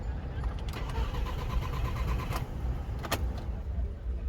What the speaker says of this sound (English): I haven't started the car, so I want to go ahead and start the car.